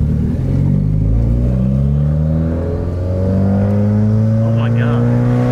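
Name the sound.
WRX car driving after front and rear sway bar install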